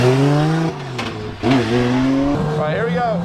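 Toyota Supra drift car lapping a track, a loud close engine with harmonics sweeping up and down through gear changes, along with tire squeal, under a man's speech.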